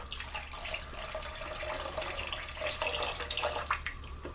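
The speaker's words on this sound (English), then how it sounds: "And I'm going to follow that up by adding a little water." Water pours into a gumbo pot on a stovetop, a steady splashing stream running the whole time at moderate loudness with no talk.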